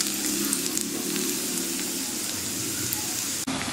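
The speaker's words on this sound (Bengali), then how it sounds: "এখানে পেঁয়াজ ফ্রাইং চলছে, tomatoes and then the mutton with some" Onions frying in oil in a wok for mutton curry give a continuous close sizzle, dense and even, with a faint stir near the end and no talking.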